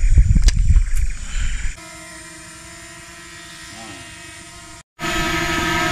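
A drone hovers over a burned, damaged forest, giving a steady high-pitched motor whine with sustained tones after a brief burst of noise, then cutting out abruptly before the sound resumes.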